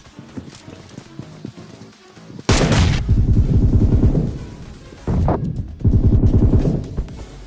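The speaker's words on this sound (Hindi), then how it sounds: "तो ये बंदा यहाँ पे फ्री फायर देने लगता है" Gunfire in PUBG mixed into gameplay sounds: a quieter clattering stretch, then loud bursts of rapid shots that stop and start again, close and harsh.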